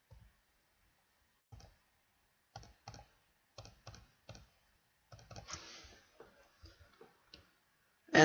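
Keys on a computer keyboard are tapped in scattered short bursts with pauses between groups, quiet and close, ending with a sharper click; no one speaks.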